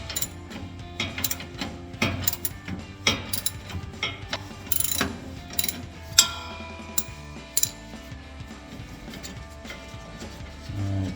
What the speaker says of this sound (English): I'm just going to take this one bolt out and just kind of drop it down from this end first